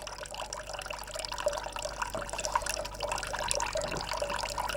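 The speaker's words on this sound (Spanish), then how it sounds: "el líquido resultante de la mezcla del vapor del agua y del espliego sale con más intensidad y queda recogido en el vaso florentino" Lavender distillate running from a copper still into a Florentine flask, a soft continuous trickle with light dripping and gurgling, quiet and close, alone without talk.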